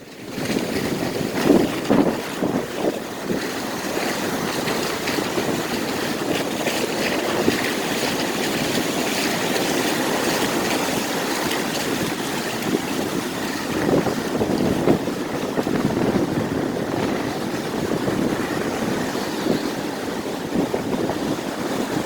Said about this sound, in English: A wall of water's coming!